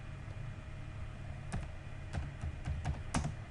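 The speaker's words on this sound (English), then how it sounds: "so I am typing select asterisk from inquiry" Keys clatter on a computer keyboard in a short burst of irregular typing, several crisp clicks close by, entering a database query with no one talking.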